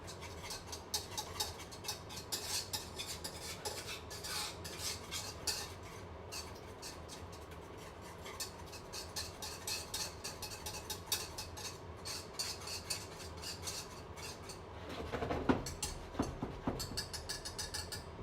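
A metal whisk stirring garlic parmesan chicken and rice in a pot, giving a steady quiet scraping and clinking over a continuous background hum, with a louder burst of stirring near the end.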